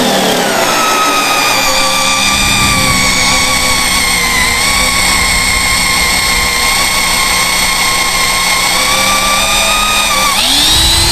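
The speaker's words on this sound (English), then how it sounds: "But first we gotta drill out these holes bigger." A power drill whines loud and steady at high speed for several seconds while enlarging holes, then its pitch shifts sharply near the end.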